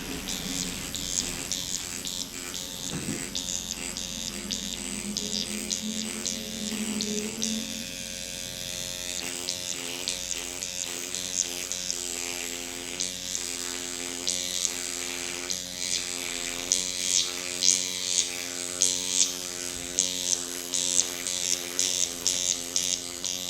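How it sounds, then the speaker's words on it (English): Motorized skin needling pen buzzing steadily against the cheek and jawline at a deeper 0.5 needle depth, a close, continuous electric whir with faint ticking pulses toward the end, alone without talk. "for cheek area and for jawline area, this area is has a lot more fat and a lot thicker skin, so it can take a deeper needle"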